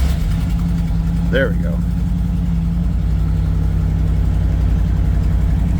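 A 1990 Ford F250 truck engine runs at a steady, loud idle close by, with a brief rise in pitch early on; someone speaks a few words over it.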